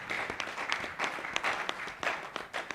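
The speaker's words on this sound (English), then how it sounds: "Can you give me a round of applause?" An audience at a chaplain officers and wives annual training retreat gives a round of applause, a steady patter of many hands clapping at moderate distance that fills the hall for a few seconds.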